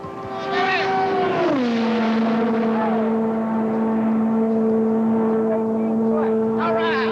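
The 1987 Oldsmobile Aerotech record car with its detuned engine roars past on a flying-mile run, a loud steady engine drone whose pitch drops sharply as it passes and then holds low, with a narrator talking over it.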